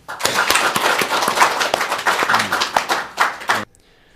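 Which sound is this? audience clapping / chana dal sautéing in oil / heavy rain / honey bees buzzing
audience clapping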